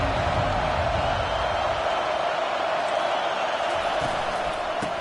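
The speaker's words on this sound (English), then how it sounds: "They challenge this crowd to bring the energy, and I'd say they're doing that." A college football stadium crowd at an NCAA game, a dense continuous roar of cheering that stays loud and broad across the whole stretch, with scattered shouts poking through.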